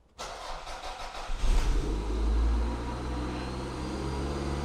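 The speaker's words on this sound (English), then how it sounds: "So let's start the engine." A low-mileage W20 Toyota MR2 cranks briefly, then its engine catches on a cold start and settles into a loud, steady high idle close by, with no talk.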